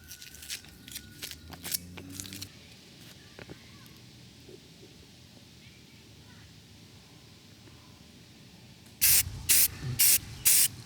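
A masked Land Cruiser 80 Series axle knuckle is spray painted in four loud, close hissing bursts near the end, after a long quiet stretch that opens with a few faint knocks.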